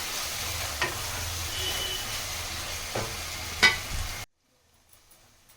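Green chilli paste sautéing in a pan for mutton biryani: a steady, close sizzle with a few scrapes and stirs. A louder clatter comes near the end, then the sound cuts to near silence.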